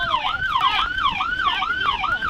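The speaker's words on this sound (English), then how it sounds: "With the sirens blaring, you can hear her yell instructions." Police car sirens wail in a repeating rising-and-falling sweep, several cycles in a row, loud and near over faint traffic and road background.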